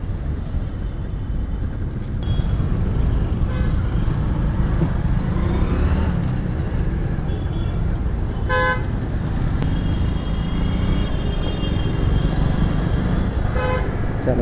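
Busy road traffic in Pune, India, with a dense engine rumble, several car horns tooting in short bursts above the steady din, and a motorcycle among the passing vehicles.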